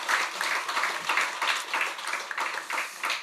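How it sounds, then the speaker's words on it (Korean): A church congregation at a Sunday worship service claps in rhythmic bursts, a moderate round of applause with a steady, pulsing beat and no voices over it. "우리 박수 한번 해주시죠."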